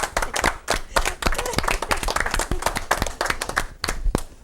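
Applause at a municipal council meeting, a small group clapping with distinct, uneven individual hand claps close by that keep going for several seconds, with brief murmurs of voices underneath.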